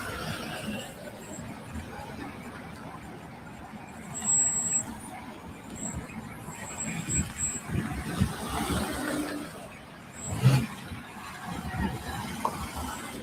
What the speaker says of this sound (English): you'll be able to watch how the traffic goes on here today